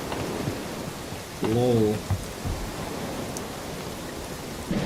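Steady rain and water ambience fills a video game zone, a constant hiss running beneath a brief laugh and some talk.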